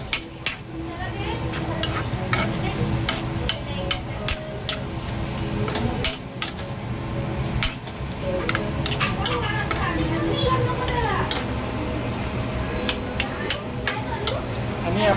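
Chilies sizzle in hot oil with cumin for paneer bhurji while a spoon stirs and scrapes the pan, sharp clinks recurring over a steady frying hiss.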